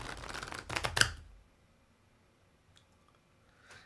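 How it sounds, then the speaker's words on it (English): A deck of playing cards is shuffled up close, a quick burst of riffling flutters and snaps lasting about a second, then near silence with a couple of faint ticks. "listening to the cards like the sounds of the ocean"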